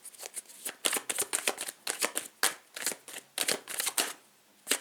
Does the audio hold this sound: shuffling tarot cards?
yes